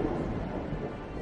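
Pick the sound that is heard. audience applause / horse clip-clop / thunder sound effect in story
thunder sound effect in story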